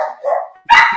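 Foster dogs bark loudly and close by indoors: a short whining yip, then one sharp bark, with no talk over them.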